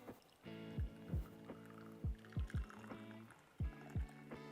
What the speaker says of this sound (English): And then you're ready to pour.